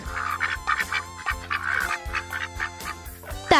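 A duck quacks in a run of short nasal calls over a steady background music track, with no talking.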